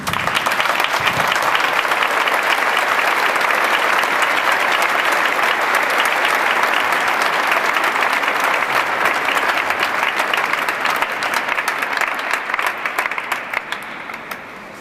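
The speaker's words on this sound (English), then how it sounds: "Give an applause, please." Sustained audience applause fills a church, Rotterdam's Laurenskerk, during a peace service: dense, loud clapping from a large crowd holding steady for most of the time before tapering slightly at the end.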